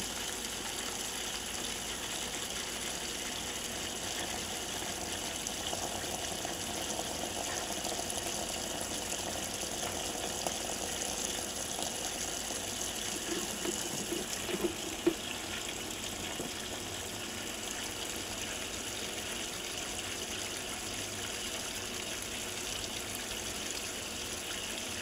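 Whirlpool WGT4027HW top-load washer filling with water on its bulky items cycle with fabric softener, a low, steady rush of running water that continues evenly for a long stretch, faint and without talk.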